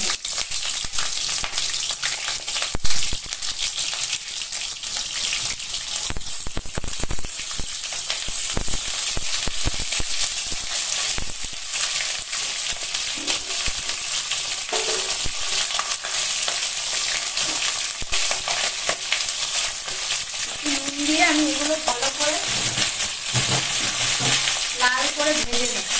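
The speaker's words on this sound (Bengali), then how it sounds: "আলু আর পটল দুটোই ভেজে নিই।" Potato strips and pointed gourd (potol) fry with a bay leaf in hot oil, a loud, steady sizzle running throughout with occasional stirring scrapes, and a voice briefly heard toward the end.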